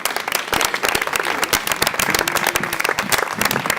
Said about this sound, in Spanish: Un aplauso para Leticia.